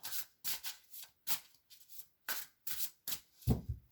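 A deck of cards is cut and handled during a fortune-telling reading, giving a series of soft papery riffles and slides in a steady rhythm, close and quiet, with no talk.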